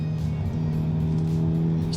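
A Hyundai i30 N sedan, tuned for the track, drives hard on a racetrack, its engine a steady close roar with a sustained tonal drone and no talking.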